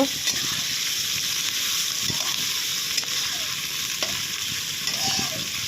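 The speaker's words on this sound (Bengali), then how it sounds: "পেঁয়াজগুলো লাল করে ভেজে নিই" Onions frying in oil with bay leaf, cardamom and cinnamon give a steady close sizzle for the whole stretch, with occasional soft stirring scrapes and no talking.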